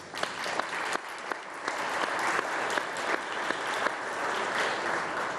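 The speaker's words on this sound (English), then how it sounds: "a round of applause again for all of you in the room" Audience at a recognition breakfast applauds steadily, a full, even wash of many hands clapping with individual claps popping out, continuous and moderately loud.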